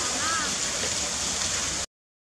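Steady, loud hiss of rain pouring down, constant throughout, then cutting off abruptly near the end.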